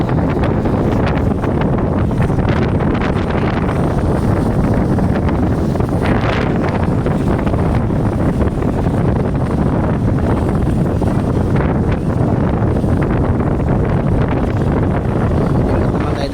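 Strong wind roars and buffets the microphone continuously on the deck of a bulk carrier during hold cleaning, a loud, steady rumble with gusts throughout.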